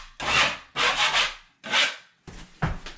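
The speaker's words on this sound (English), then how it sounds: "You don't have to sand everything." Sandpaper rubs drywall joint compound on a patch in several separate strokes, a close, dry scratchy hiss that starts and stops in short bursts.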